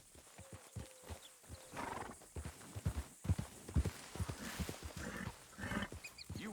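A horse in Red Dead Redemption 2, hooves clip-clopping in an uneven run of close thuds, with a snorting whinny rising over ambient outdoor sound and no speech.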